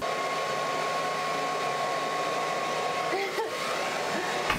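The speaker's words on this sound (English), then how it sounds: "I'm literally already having troubles with just blow drying my hair." Hair dryer blows steadily while blow drying hair, a constant loud whirring hum with airflow hiss, briefly shifting as it moves near the end.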